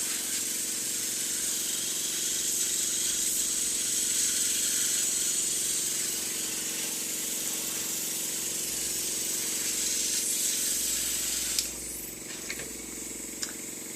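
An airbrush sprays out leftover makeup as a steady, continuous hiss with a low motor hum beneath it, close and even for over ten seconds, with a few faint clicks near the end.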